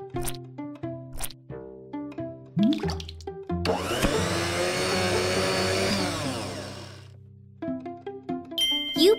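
A cartoon blender whirring through kale in a kids' learning game, a rising, steady electric roar lasting a few seconds, set between short chiming musical notes and jingles.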